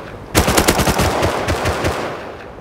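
Machine gun fire in a video game rattles out in a fast, loud burst of about a dozen close shots after a brief quiet start, then tails off into echo.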